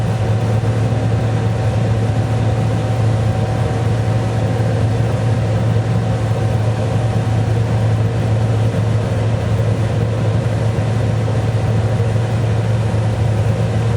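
A tractor with AutoTrac steering rolls forward, its engine a steady, loud, unbroken droning hum with a constant low tone that holds evenly throughout, with no voices.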